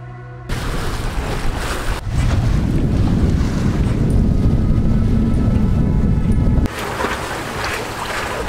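Wind roaring across a sailboat at sea near the Incoronate islands, a steady blustery rush with buffeting on the microphone that swells loudest in the middle and then eases.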